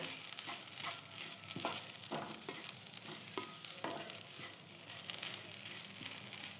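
Grated coconut roasts in a pan, a close, soft dry sizzle with repeated scraping and stirring strokes at an uneven rhythm.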